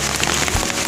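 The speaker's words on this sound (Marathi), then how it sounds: "पावसाची सर ही खूप छान वाटते" A rain shower pattering down near a waterfall in a hilly forest, a loud, steady hiss of drops hitting surfaces close at hand, with no voices.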